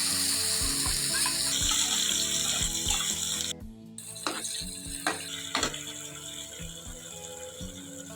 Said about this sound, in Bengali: ওই কড়াইতেই আবার একটু তেল দিয়ে মশলা কষালাম